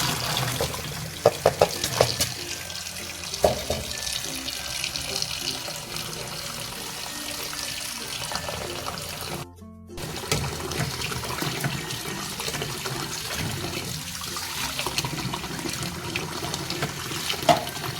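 Tap water runs continuously over vegetables being washed for a stir-fry, a steady splashing stream with a few knocks of handling and one brief pause midway.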